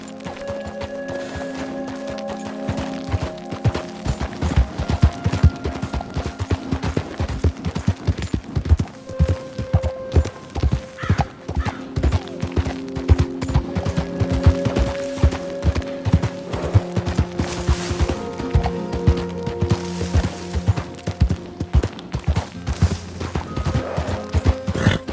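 Horse hooves clip-clop steadily in Red Dead Redemption, a fast, even rhythm of hoofbeats running close and loud through the whole stretch, with faint mechanical clatter and a sustained musical drone underneath.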